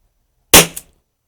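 A single sharp, sudden crack from a Weihrauch HW4 6-inch flobert pistol rings out, then a short echo, with silence before and after.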